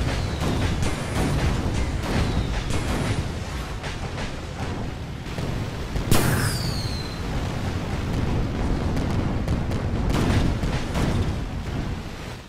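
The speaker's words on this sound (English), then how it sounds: "Just all 5 of these guns going out." Naval guns firing in a video game sea battle between airship-style vessels, producing a dense, continuous roar of booming blasts and rumbling explosions with a sharp crack partway through, loud and sustained throughout.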